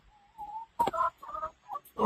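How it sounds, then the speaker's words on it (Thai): Laying hens cluck and squawk in a coop converted from an old rice barn near a house in Wiang Nong Long district. A few short, close calls come in uneven bursts with no talking. "อันนี้ก็ปรับปรุงเป็นเล้าไก่นะครับ ให้ไก่ไข่ได้อยู่"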